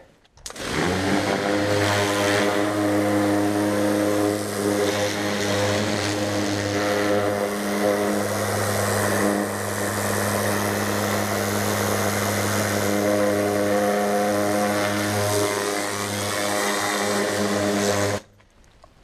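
A pressure washer with a rotating nozzle roars loudly and continuously with a deep droning hum, close by and steady for nearly twenty seconds.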